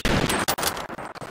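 Gunfire from an AWS sniper rifle in the Roblox video game, a quick series of sharp, loud shots in an irregular burst lasting about a second, heard alone with no talking.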